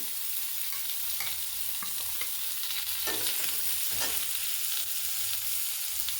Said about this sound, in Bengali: মশলাটা ভালো করে কষে নিয়েছি